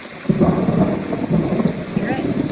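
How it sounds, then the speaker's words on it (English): Rainstorm ambience from a Noisli browser extension, a dense rushing wash of rain with low rumbling swells, steady and fairly loud with no talk. "And then you can pick things like a rainstorm."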